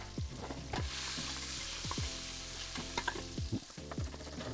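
Vegetables for a veggie bean chilli frying in a very hot pan, a steady close sizzle broken by repeated scraping and stirring clatter of a utensil against the pan.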